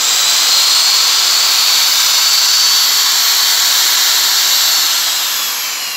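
A used Japanese-market Hitachi 100V 620W 13 mm electric drill running steadily at full speed, a loud, close, continuous high-pitched motor whine and hiss that eases off slightly at the end.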